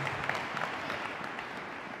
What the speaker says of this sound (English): Hey, clap your hands.